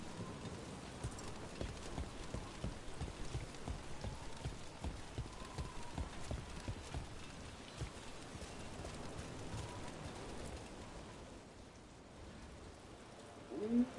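Rain falls in the video game Dragon Age as a steady, soft wash of patter, with rhythmic thudding steps underneath and no voices.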